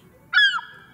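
A seagull calls once at close range, a short loud harsh cry with a clear tonal edge, standing out against a quiet, muffled background with no talking.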